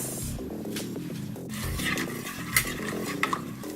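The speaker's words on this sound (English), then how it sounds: "Give it a good mix." A spoon stirs packet gravy mix and a cup of water in a pot for a shrimp, corn and tomato stew, soft rubbing scrapes and light clinks, close and quiet over low background music.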